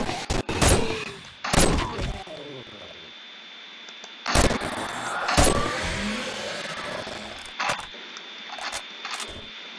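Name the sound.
gunfire from a gun in the video game 7 Days To Die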